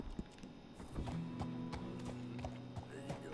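In Red Dead Redemption 2 on PS4, a horse's hooves clip-clop in a steady walking rhythm, fairly quiet and close, over a low game hum.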